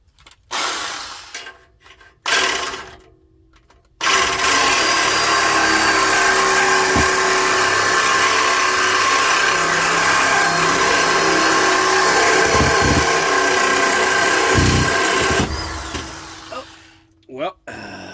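A power saw cuts steadily for about eleven seconds during transmission removal on a 2010 Ford Crown Victoria, a loud continuous whining buzz bracketed by brief bursts and clunks of work in a garage.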